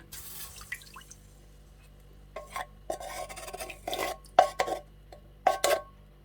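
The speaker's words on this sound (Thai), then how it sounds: "หม้อเขาก็เริ่ม เดือดแล้ว เนาะ พี่น้อง เนาะ เขาก็จิใส่ กะทิลงไปเลยนะคะ" Coconut milk goes into a boiling pot of cassia-leaf (khi lek) coconut curry with pork and snails. A brief liquid pour comes first, then scattered stirring splashes and clinks grow louder toward the end, with no talking.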